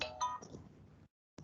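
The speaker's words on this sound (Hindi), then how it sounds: "Just wait for a second, I am getting a phone call." A phone ringtone sounds for an incoming call during an online C++ class, a short burst of bright, layered tones lasting about a second. It stops briefly, then starts again.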